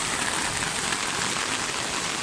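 Heavy rain pours down steadily on a walk home through a quiet neighbourhood, a loud, unbroken hiss of water hitting the ground with no voices.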